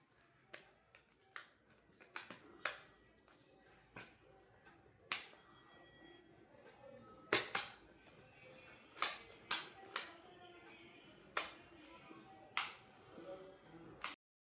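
A toy gun fires a quick, irregular series of sharp, close snapping pops, roughly a dozen or more shots spread over several seconds, with quiet room background between them.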